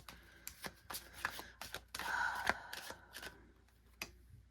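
Tarot cards shuffled by hand up close, a quiet series of crisp riffles and flicks with soft taps as cards are drawn and laid down.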